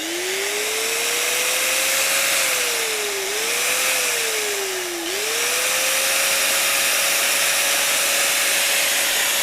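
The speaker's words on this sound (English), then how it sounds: "so right now I'm going to test you the grinder" Grinder powered from an EcoFlow River 2 portable power station, a loud continuous whine that rises, dips twice briefly and settles at a steady pitch, with no talking.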